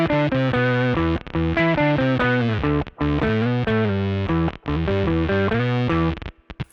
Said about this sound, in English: And it's a guitar synth.